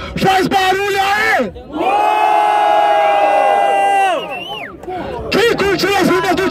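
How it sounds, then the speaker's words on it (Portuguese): A crowd at a rap battle yells, whoops and cheers loudly in a sustained roar of voices. It swells, briefly drops and then rises again with shouting, close and dense. "Quem curtiu as rimas do Mota, faz barulho aí!"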